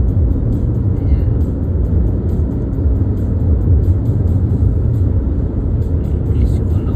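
A car drives along a highway from British Columbia to Alberta, its engine and tyres making a loud, steady low rumble throughout, with steady wind and road noise inside the cabin.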